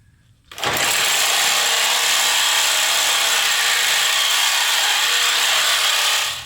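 Saw fitted with a carbide-tooth blade cutting through a Toyota lower control arm, starting abruptly and then running as a loud, harsh, continuous grinding rasp close by, with no talk.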